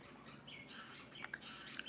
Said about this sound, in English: Will the birds be there tomorrow? They're always here.